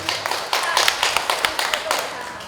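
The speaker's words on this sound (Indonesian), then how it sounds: "Kita beri aplaus Bapak Ibu." An audience at a university Q&A session in a village hall in Lawang, Malang, claps briefly with scattered close hand claps over a voice speaking.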